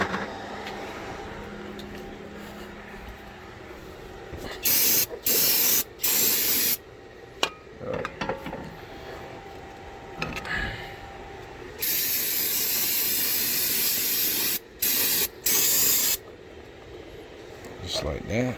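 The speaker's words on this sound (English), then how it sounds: "use some brake cleaner, the one it came with, and just clean it all up" Brake cleaner sprayed from an aerosol can onto the brake parts of a 2014 Buick Enclave's passenger axle during a pad and rotor job: a string of loud, close hissing bursts, several short and one long, with quieter working noise between them.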